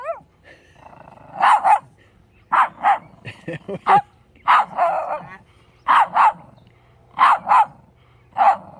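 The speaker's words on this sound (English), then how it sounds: "What's that little girl barking at you for?" A dog barks in short, sharp bursts, several clustered pairs spread through the stretch, fairly close, with quiet gaps between them.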